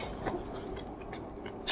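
Tarot cards being drawn and handled during a reading, with soft papery rubbing and sliding noises, quiet and close, with no talking.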